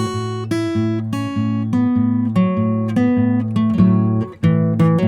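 Electric guitar plays a blues call phrase, with close, clear plucked notes and short repeated bass-string figures in a loose rhythm.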